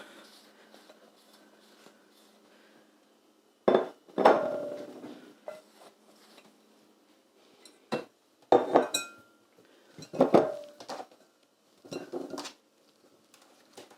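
Produce bowls clatter in a kitchen as they are taken out and set down, with a few separate knocks and clinks spaced over quiet stretches and a faint voice now and then.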